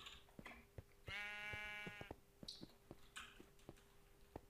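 A sheep in the Minecraft modpack Hexxit bleats once, a clear nasal cry near the middle, among light tapping and clicking game sounds.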